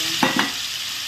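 Two red chilies go into a pan of garlic frying in hot oil and sizzle in a steady, loud hiss, with a couple of brief stirring scrapes near the start.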